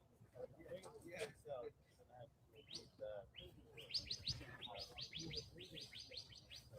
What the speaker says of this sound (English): Hear the bird? There it goes.